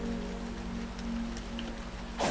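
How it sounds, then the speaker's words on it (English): Steady, soothing rain ambience in the Sonic Frontiers video game, a continuous patter of rainfall with a faint underlying hum, with no voices. "It's got a really nice ambience to it. Very soothing, the rain and whatnot."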